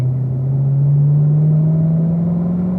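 A Corvette Z06 with an automatic gearbox on a race track at a driving school gives off a loud, steady in-car engine drone whose pitch climbs slowly as it runs through the corner; no talking.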